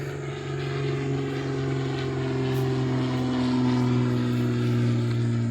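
Steady droning hum of a small propeller airplane engine, constant and fairly loud, with no voices.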